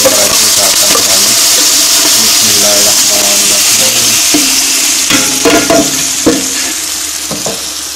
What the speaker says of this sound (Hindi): आयल हमारा हो गया है, आग हल्की करके आप सारे चावल इसमें डाल दें।